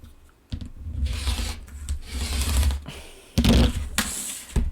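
Stacked, lined-up fabric pieces being cut for a quilt block, giving four or five close, rasping strokes in an uneven rhythm with short pauses between them and no talking.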